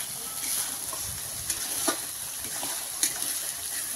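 Spice paste fries in oil with chicken giblets, skin and stomach pieces, giving a steady, moderately loud sizzle and hiss. A few sharper pops and stirring scrapes stand out over the constant frying, with no voices.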